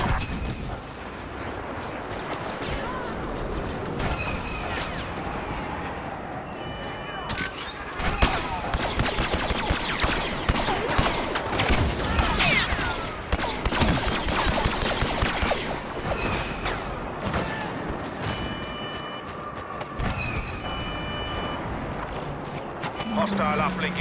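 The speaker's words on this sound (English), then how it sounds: "Y-wing bomber attack." Y-wing bomber attack in Star Wars Battlefront: a long barrage of blasts, booming explosions and crashing impacts that swells and stays loud throughout, with game voices speaking over the chaos.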